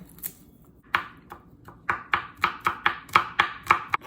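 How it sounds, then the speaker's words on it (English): Kitchen knife mincing six garlic cloves on a cutting board, starting with a few scattered taps and building to a steady run of sharp, close chops, with no talking. "Just mince the garlic, and that's it."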